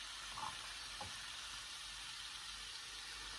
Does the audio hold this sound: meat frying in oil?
yes